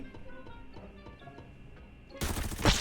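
Gunfire in the shooter game Arena Breakout, a loud burst of rapid shots erupting near the end after quieter ticking game ambience, with no talk over it.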